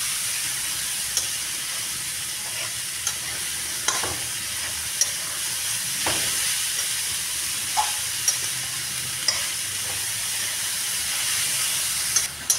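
Cabbage is stirred in a pan with salt and turmeric, giving a steady sizzle with scraping knocks of a spoon recurring every second or so; no one speaks.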